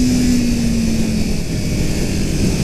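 A 2018 Kawasaki Ninja 400 beginner motorcycle accelerates hard, its engine a loud, steady drone close up, with a tone sliding slowly as speed builds amid rushing wind noise.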